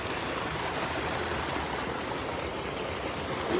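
Spring water at Biga Spring Resort rushes steadily in a constant, full-bodied flow, close and loud, with no voices over it.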